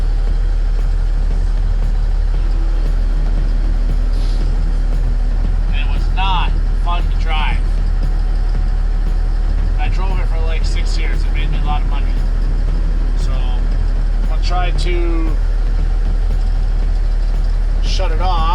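A 1990 9370 tri-axle dump truck idles steadily after sitting for nine months, its low continuous diesel rumble running throughout while people talk intermittently nearby.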